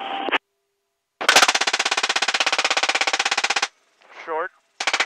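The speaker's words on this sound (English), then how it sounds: "Left gun, open fire." A GAU-21 .50 caliber machine gun fires from a military helicopter in one long, rapid, very loud burst after a brief earlier shot, followed by a short radio-like voice and another burst starting.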